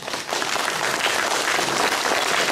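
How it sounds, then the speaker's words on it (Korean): Applause from an audience at a Korean local town-hall talk event, greeting three city council members; dense steady clapping fills the whole stretch at even loudness after a brief softer start. "박수 한번 주시고요"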